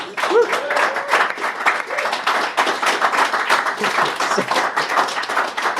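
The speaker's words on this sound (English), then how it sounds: "a round of applause for Hayabusa 2" A live podcast audience at the British Interplanetary Society applauds the Hayabusa 2 asteroid mission, a steady round of close clapping lasting several seconds, with brief voices and cheers woven through.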